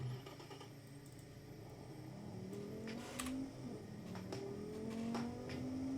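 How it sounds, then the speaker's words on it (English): A racing car engine in the game Automation, driven on the Top Gear track, revs and climbs through the gears with crackling pops and splutters from a straight-pipe exhaust, steady and moderately loud, no voices. "You can hear it pop and spluttering from the straight pipe exhaust"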